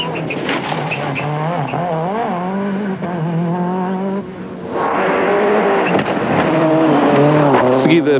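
A SEAT rally car at a stage rally in Lafões, its engine note rising and falling through gear changes while it slides sideways with tyre scrub, then revving harder; a commentator talks throughout.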